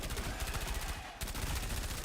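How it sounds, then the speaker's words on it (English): Rapid suppressed SMG fire in the Helldivers 2 video game: a continuous, dense rattle of muffled shots with a brief dip in the middle, steady and fairly close. "It's not spot on, but that sounds more like the Halo suppressed SMG"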